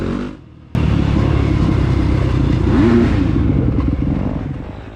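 Husqvarna and KTM dirt bikes race past at Blueberry Hill, Collinsville, Alabama, engines revving loudly and continuously after a brief quiet dip, with a pass swelling near the middle and then slowly fading.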